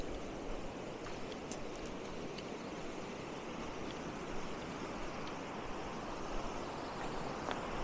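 A high, swollen river after heavy rains rushes past in a steady, dense roar that fills the whole stretch without letting up, close by, with no talk.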